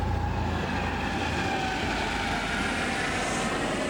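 A jet aircraft roars steadily overhead above the Potomac River in downtown Washington, a loud continuous engine drone with no voices.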